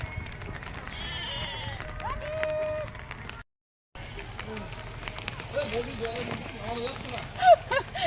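Goats bleat in short wavering calls over an outdoor scene with rustling and voices, the animals fairly close and getting wet in the rain; a brief gap of silence splits the clip.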